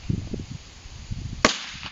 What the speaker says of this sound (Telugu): చిడియా బాంబు, అదే పిట్ట బాంబు. దీన్ని ఓపెన్ చేస్తున్నా, దీన్ని కాల్చి చూద్దాం సౌండ్ ఎట్లా వస్తుందో